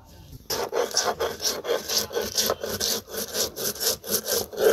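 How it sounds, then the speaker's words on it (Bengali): Cumin seeds and cardamom pods ground by hand on a grinding stone in a village kitchen. Close, rhythmic back-and-forth scraping strokes come in a steady, even cadence. "তো আমি হচ্ছে প্রথমে কিছু জিরা বেটে নেব, এরই সাথে আমি 2টা এলাচের ফলও বেটে নেব।"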